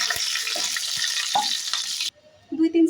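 Cloves, cardamom and a cinnamon stick sizzle sharply as they hit hot mustard oil in a kadai, a loud, steady hiss with a few stirring knocks that stops abruptly, followed by quieter pan sounds.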